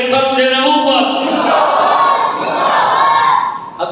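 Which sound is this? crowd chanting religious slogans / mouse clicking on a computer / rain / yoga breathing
crowd chanting religious slogans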